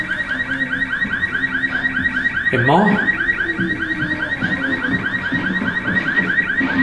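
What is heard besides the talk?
alarm going off in the video game Resident Evil 6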